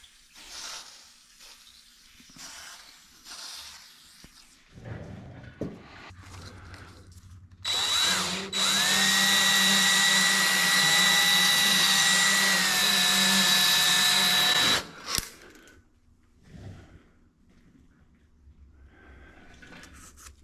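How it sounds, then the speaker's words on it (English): A hone spun by a drill works inside the cylinder of a 1972 Honda Trail 90, a loud steady whir for several seconds between quieter handling clatter, heard alone without talk. "I think I can clean this up with a hone."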